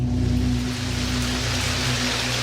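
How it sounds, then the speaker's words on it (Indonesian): Heavy rain pours down at night in a steady, dense hiss with a low constant hum underneath, continuous throughout with no voices. "Malam itu hujan turun cukup deras."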